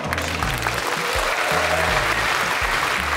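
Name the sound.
assembly applause approving a resolution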